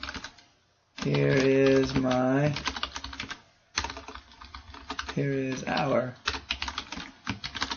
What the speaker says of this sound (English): Open that up and type in here some random stuff.